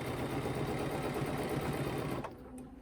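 A sewing machine stitching a quilt petal with a ruler foot hums in a continuous close, even run, then stops near the end, leaving only faint background.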